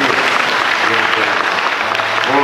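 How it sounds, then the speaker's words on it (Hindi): Wedding guests at a church marriage ceremony clap loudly together in a dense, continuous burst, close and full throughout the short stretch. "जोर से ताली बजाए"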